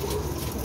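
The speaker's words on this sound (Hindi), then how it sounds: "चौथा कबूतर चेक करो" A pigeon of a Sialkoti breed gives a soft, low coo up close, a brief murmuring call against a busy background.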